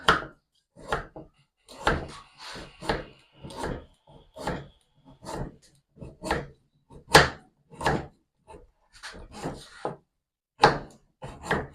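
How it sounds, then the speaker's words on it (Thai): A knife chops galangal on a wooden cutting board, a steady series of close, crisp strikes, roughly twenty in all, at an even rhythm with short gaps and no talking. "ก่อนอื่นฮะจะมาซอยคากันเลยทุกคนเนาะ"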